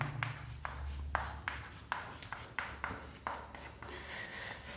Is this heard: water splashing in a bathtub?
no